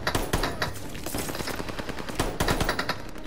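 Rapid bursts of automatic gunfire in a shooter video game, close and loud, with sharp repeated shots in quick clusters over a few seconds and no talk.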